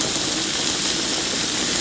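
Ribeye steaks and cabbage steaks sizzle on a Blackstone griddle at a campsite, giving a steady, loud, broadband hiss that stays even throughout with no talking.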